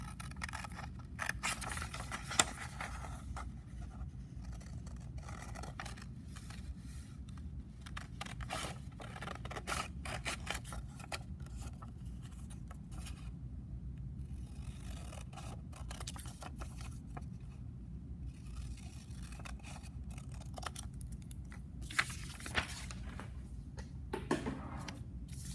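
Scissors snip out a small paper penguin picture in quiet, close, faint repeated cuts and light paper scrapes scattered over a hushed background.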